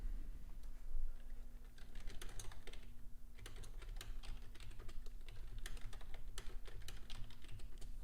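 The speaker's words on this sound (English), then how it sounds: "if you do hear typing, that's just me making alerts" Rapid, irregular clicking of computer keys continues throughout at close range, with a steady low electronic hum underneath and no voices.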